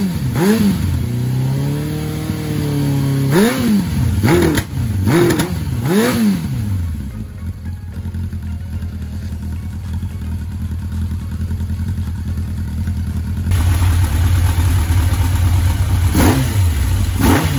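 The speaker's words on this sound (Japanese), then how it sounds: "はい、無事にエンジンかかりました。" A Suzuki Katana motorcycle, left unused for five months, fires up and revs in several sharp swelling bursts, then settles into a loud steady idle with more revs near the end.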